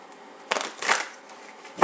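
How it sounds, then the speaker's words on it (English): A Rider-Waite tarot deck being shuffled up close, with a couple of quick riffling bursts separated by brief pauses. "I'm using the Rider-Waite because it's so easy to shuffle"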